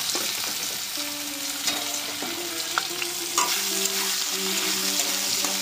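Small chicken pieces fry with onion and two chillies in a pan, a steady loud sizzle broken by the clatter of stirring, with no talk over it.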